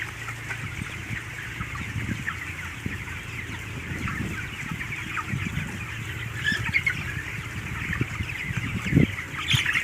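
Twenty-one-day-old broiler chickens cluck continuously inside a fully automatic closed-house poultry barn. The dense flock chatter is steady and moderately loud, with a constant ventilation hum underneath.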